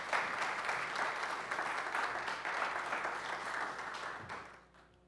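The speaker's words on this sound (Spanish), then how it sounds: "Un fuerte aplauso para él." Steady applause from an audience at a national competitiveness index presentation, greeting a municipal mayor; dense even clapping throughout that fades out at the end.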